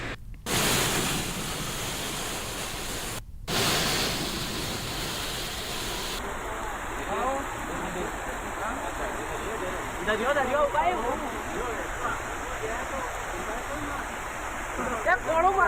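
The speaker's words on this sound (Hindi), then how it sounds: "बारिश से नदी नाले उफान पर हैं।" Rain-swollen rivers and streams overflow in a steady rushing roar of water, with a person talking over it.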